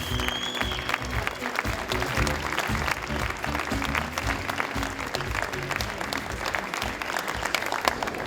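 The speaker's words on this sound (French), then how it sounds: "Applaudissements pour Florian." Dense, steady applause from an audience at the Charles Proust chocolate competition award ceremony, Salon du Chocolat Paris 2014, honoring a prizewinner, continuing evenly throughout.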